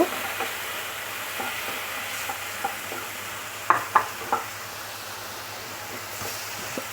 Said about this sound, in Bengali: আলু আর শশা ভাজা